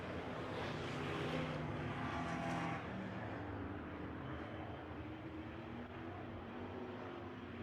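A race car engine held hard on the throttle at a short-track speedway, a dense continuous roar that stays loud throughout with a slight fade toward the end, as if the car is passing and pulling away.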